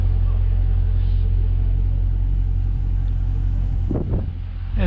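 Dodge Challenger Scat Pack engine rumbles in a deep, steady idle, loud and close, with a voice speaking briefly near the end.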